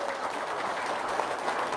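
Audience applause during a talk, a continuous dense wash of clapping hands at even, moderate loudness across the whole stretch.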